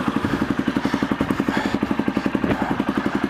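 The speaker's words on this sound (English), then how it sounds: "Let me see if the clutch will release" An Aprilia Pegaso motorcycle idles with its clutch being released after repair, the single-cylinder engine thumping in a steady, even close-up beat throughout.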